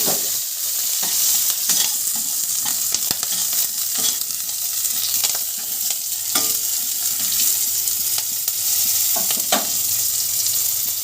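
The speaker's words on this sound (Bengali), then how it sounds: "কালো জিরে ফোড়ন দিয়ে দিলাম আর একটু চেরা কাঁচা লঙ্কা" Nigella seeds and slit green chillies hit hot oil in a pan for a garlic fish curry, giving a steady loud sizzle with scraping stirs and small crackles throughout, no voices.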